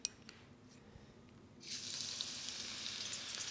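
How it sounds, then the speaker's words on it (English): Garlic hits hot oil over low heat in a pan and bursts into a steady, bright sizzle from its moisture, loud and continuous after a quieter start with a few small clicks. "you get an immediate sizzle from the moisture"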